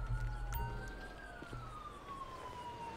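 A faint ambulance siren in the video game GTA V with the LSPDFR mod wails in the background, its tone gliding slowly up and then down, with a low engine hum beneath.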